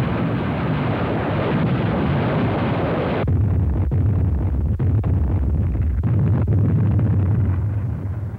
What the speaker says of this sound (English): The assault troops were preceded by a rocket barrage directed against the area behind the landing beaches.